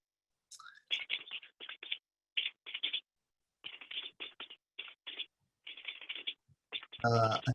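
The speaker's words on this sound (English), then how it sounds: "I think Dane Feldman, I think you're the guy typing here." Rapid, irregular typing on a computer keyboard picked up by an open microphone during an online meeting, with bursts of clicks separated by short pauses, fairly close and clear, ending in a brief louder rustle.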